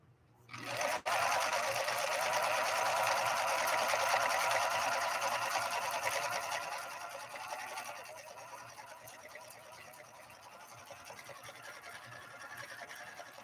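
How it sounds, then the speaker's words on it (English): A Husqvarna Viking 3230 sewing machine with a leather needle runs a shell stitch through two layers of heavy-grade denim, one continuous close whirring run that starts abruptly and eases somewhat softer toward the end. "The shell stitch on 2 layers of heavy grade denim."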